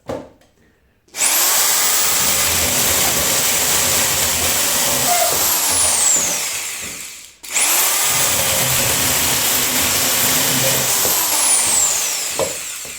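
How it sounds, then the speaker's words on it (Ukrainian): An old corded electric drill fitted with a saw attachment runs at full speed cutting firewood, a loud steady high-pitched whine in two long bursts separated by a short pause. "Взяв я свою стару дрель. І давайте подивимося на максимальних обертах."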